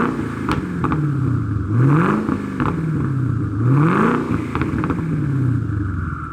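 A twin-turbo Coyote V8 in a Mustang idles close by and is repeatedly blipped, the pitch rising and falling in a few rev swells, each followed by a quick drop back off throttle.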